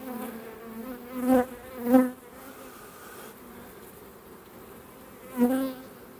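Honeybee colony humming steadily on an open brood frame during a spring hive inspection, a continuous close buzz with a few louder swells as bees fly near.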